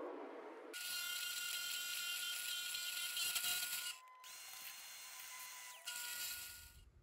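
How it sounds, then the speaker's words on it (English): A steady, loud mechanical whir of a drill press scoring a center point on a carbon fiber tube connector, with a brief drop in the middle before the motor noise swells again. "I'm going to use it to basically kind of score the center point where I want to drill"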